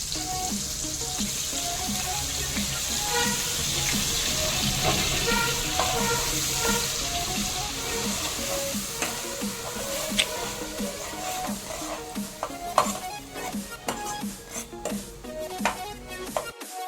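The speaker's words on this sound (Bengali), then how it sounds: "আমি গুঁড়ো মশলাগুলোটাকে একদম জল দিয়ে ভিজিয়ে নিয়ে পর কড়াইতে দিয়ে দিচ্ছি" Ground spices soaked in water sizzle steadily in a hot kadai with oil, tomato and ginger, a loud, continuous frying hiss with occasional stirring scrapes.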